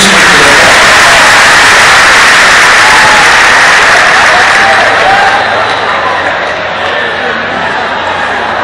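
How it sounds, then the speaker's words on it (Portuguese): A church congregation applauds loudly and continuously, a dense wash of clapping that slowly eases off toward the end. "os que podem então no seu assento aplaudindo a Jesus."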